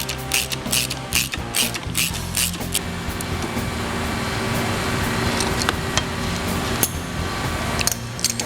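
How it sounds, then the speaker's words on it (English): Mounting screws being driven into a motorcycle shock preload adjuster bracket on a Suzuki V-Strom with a Progressive 465 Series monoshock, heard as a close rapid ratcheting clatter, then a steady mechanical whir, without speech. "All we're going to do is just install the mounting screws to the bracket"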